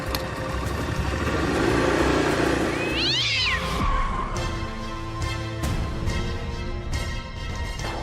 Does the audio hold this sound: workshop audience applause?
no